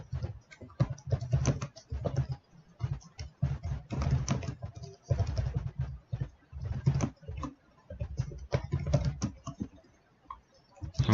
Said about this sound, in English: So kind of type in our work.